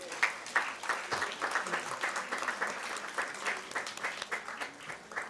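At a degree distribution ceremony for management and computer graduates, the audience applauds with distinct, fairly rhythmic claps, moderately loud and steady, with a faint voice mixed in.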